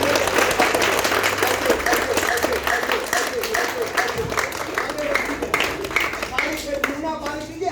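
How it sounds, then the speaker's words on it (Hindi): An outdoor crowd at a rural yoga awareness gathering near Prayagraj breaks into sustained applause, a thick, even wash of claps with a low hum and some voices mixed underneath. "ताली बजाइए, ताली बजाइए।"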